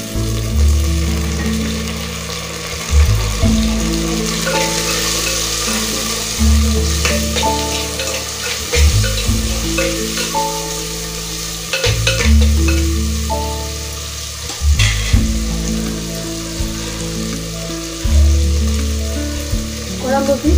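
Onions and tomatoes fry for a kuzhambu in a pan, with a steady loud sizzle and repeated rhythmic stirring scrapes every few seconds, close and continuous throughout.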